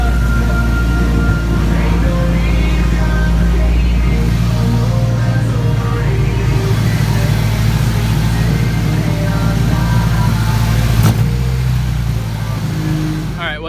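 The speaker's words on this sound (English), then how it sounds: "I want to make sure the motor actually turns over and starts before I put everything back on it." A freshly installed motor in a 240 runs steadily and loud the whole time, a constant engine drone with a few rising revs, close by and continuous.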